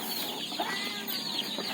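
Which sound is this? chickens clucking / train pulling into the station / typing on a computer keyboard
chickens clucking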